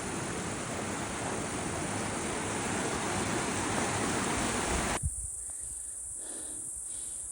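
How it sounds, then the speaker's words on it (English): A seasonal creek flowing strongly beside a hiking trail, a loud, steady, close rush of water that cuts off abruptly partway, leaving quieter faint outdoor ambience. "This is really flowing at pretty late in the year for a seasonal creek"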